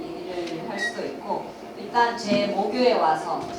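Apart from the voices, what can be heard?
None of the usual background noises is heard.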